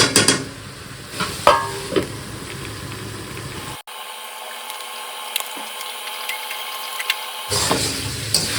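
A curry simmers and sizzles in a pan after sugar is added, with stirring scrapes at first, then a quieter hissing stretch and renewed noise at the end.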